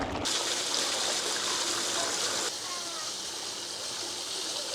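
Water pours steadily from a spring beside an outdoor path, a dense continuous rushing splash heard close up and on its own.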